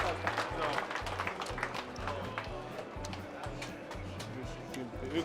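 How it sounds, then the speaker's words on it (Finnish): Crowd applause at a Finnish sausage-eating championship, scattered clapping under a rhythmic background beat, with faint voices mixed in. "aplodit"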